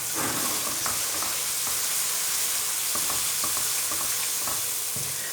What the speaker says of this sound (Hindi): अब टमाटरों के भी अच्छे तरीके से भूनेंगे कि टमाटर अच्छे तरीके से नरम हो जाए